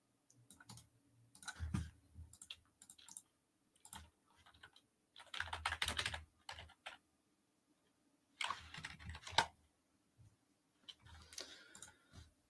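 Bursts of typing on a small, half-size computer keyboard, clicky and close, coming in irregular clusters separated by quiet gaps, with no talking.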